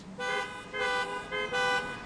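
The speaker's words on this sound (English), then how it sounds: "Honk your horn as many times as Peter denied Jesus." Car horns honk three times in a row, each a sustained tonal blast of about a quarter to half a second, loud and close with short gaps between.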